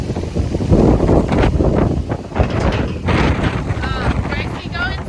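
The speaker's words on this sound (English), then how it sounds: "There's too much wind still." Strong gusting wind left after a tropical storm roars and buffets the microphone on a farm, loud and continuous, with a person talking over it near the end.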